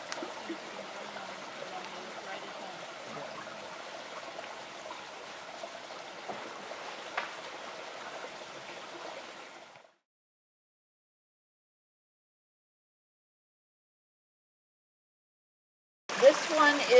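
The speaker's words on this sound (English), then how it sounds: "here comes Christmas Creek, and here's where it meets No Man's Glen" Christmas Creek flowing at its meeting with No Man's Glen in a Florida sanctuary, a steady soft rush and trickle of water continuing evenly before cutting out, then resuming briefly.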